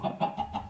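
Chicken clucking from the video game Minecraft, modpack FTB Sky Factory 3: four quick, evenly spaced clucks, close and clear with nothing else behind them.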